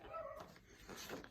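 A dog indoors gives a brief faint bark or whimper, heard twice at low level over room noise.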